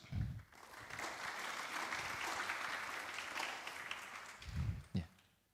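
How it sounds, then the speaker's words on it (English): An audience at a conference applauds as two speakers are welcomed to the stage, a moderately distant, sustained patter of clapping across a hall, with a few low thumps at the start and near the end. "Let's give a warm round of applause as we welcome Dr. Aditya and Dr. Gilang to the stage."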